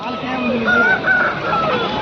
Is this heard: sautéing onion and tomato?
no